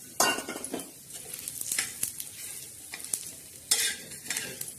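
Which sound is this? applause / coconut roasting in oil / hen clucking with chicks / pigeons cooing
coconut roasting in oil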